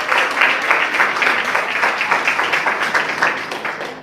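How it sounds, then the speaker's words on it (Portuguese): A church congregation claps during a worship service, loud and close, many hands striking in a loose, pulsing rhythm that holds steady before easing off at the end. "aplauda o nome do Senhor Jesus aí."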